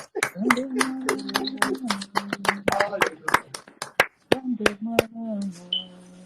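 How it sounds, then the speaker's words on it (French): A church congregation claps rhythmically for Jesus in quick sharp bursts, heard beneath a loud voice leading them, with a short pause before the clapping resumes. "acclamez pour Jésus"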